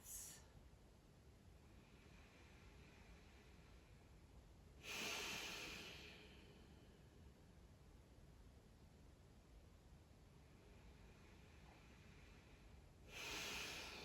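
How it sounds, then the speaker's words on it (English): Slow, deep breaths during a quiet yoga session come as two long airy exhales about eight seconds apart, soft and close over a faint steady hiss. "Nice deep breaths."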